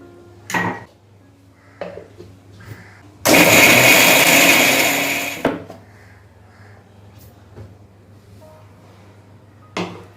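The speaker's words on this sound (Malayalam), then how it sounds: "ഇതിലേക്ക് നമുക്ക് ആവശ്യത്തിന് വെള്ളം കൂടി ചേർത്ത് നല്ലതുപോലെ ഒന്ന് അരച്ചെടുക്കാം" A kitchen mixer grinder blending coconut chutney with water whirs loudly for about two seconds, framed by clinks and clatter of dishes and the jar being handled.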